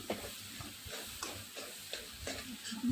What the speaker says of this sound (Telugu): ఒకసారి ఇప్పుడు చూసి బాగా కలుపుకొని